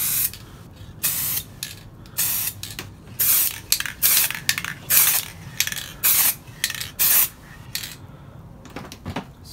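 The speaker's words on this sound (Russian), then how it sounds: "сейчас до конца взболтаю баллончик и красить" An aerosol spray paint can hisses in a series of short bursts, about a dozen, close up, used to coat a car fog light lens, with faint rattling and handling noise between sprays.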